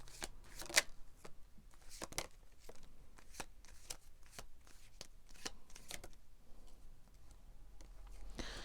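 A deck of tarot cards is shuffled by hand, with soft rapid riffles and flicks repeating in an uneven rhythm, close and faint, with no one speaking.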